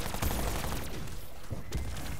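Gunfire in Call of Duty Black Ops 4 crackles in a rapid, continuous barrage of shots, loud and close, with heavier thumps standing out near the start and end.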